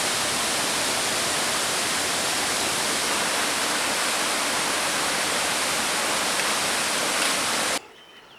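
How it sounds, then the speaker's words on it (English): A waterfall on the Kalalau Trail along Kauai's Napali Coast roars as a loud, steady broadband rush heard up close, cutting off abruptly near the end. "there's a waterfall coming down straight there"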